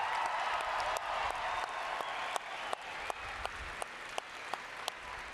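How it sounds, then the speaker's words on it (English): A high school graduation audience applauds the graduation band, a dense wash of clapping heard from a distance that fades toward scattered individual claps, with a few sharp ticks over it. "Let's give them a round of applause."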